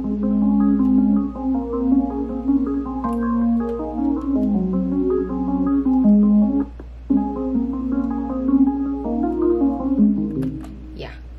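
An FM bells patch in Halion Sonic plays a pop cover melody as a string of bright, bell-like notes. The tune runs steadily, clear and upfront, with a short pause midway.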